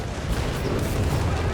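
Artillery fire in Company of Heroes 3, the World War II strategy video game, as a dense, steady rumble of distant booms and blasts with no pauses.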